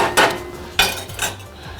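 A utensil clanks and scrapes against a pot while flour is stirred into caramelizing onions, with three distinct metallic knocks and scrapes over a couple of seconds and no talking.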